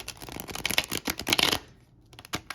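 A tarot deck is riffled and shuffled in quick, crisp bursts of flapping, then a pause and a few lighter taps.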